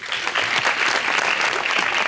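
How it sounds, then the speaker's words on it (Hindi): Studio audience applause on a Pakistani TV talk show, a brief, dense burst of clapping from the crowd, loud and continuous with no voices over it. "तालियां।"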